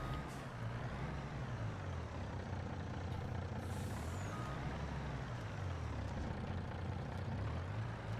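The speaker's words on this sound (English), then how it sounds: "Come on, truck." A logging truck in a farming-and-forestry video game rumbles steadily with its engine idling, repeated reversing beeps pulsing throughout and a short hiss of the air brake partway through, with no talking.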